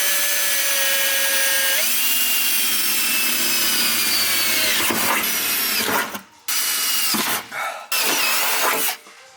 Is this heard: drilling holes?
yes